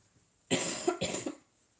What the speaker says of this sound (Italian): Ecco, come dicevo, la tosse c'è.